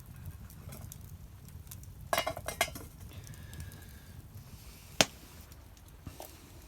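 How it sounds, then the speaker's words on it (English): An MSR camping pot clinks metallically, first in a quick cluster of knocks and then one sharp, louder clink, against a steady hiss of rain at a wet outdoor camp beside a debris cabin. "My MSR pot."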